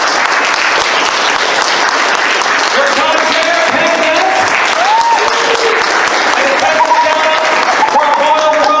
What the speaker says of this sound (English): Give a round of applause if you would, please.